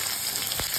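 Steady, close sizzling of onions frying in a hot pan, with a brief scrape or stir near the end.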